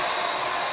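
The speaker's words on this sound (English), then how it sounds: "my blow dryer on high" A handheld blow dryer runs on its high setting, a loud, steady airy whoosh held close and unbroken for the whole brief moment.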